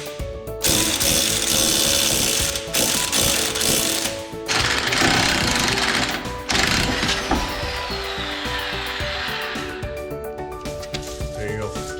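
An impact wrench hammers in loud bursts while removing a 22 mm nut from a Nissan GTR front lower control arm, with short pauses between pulses and a clanking workshop backdrop.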